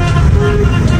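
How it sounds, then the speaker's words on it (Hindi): Heavy Lahore traffic rumbles loud and close around a stuck vehicle, with a sustained horn tone riding over the dense low road roar. "We are stuck in the traffic, you can see."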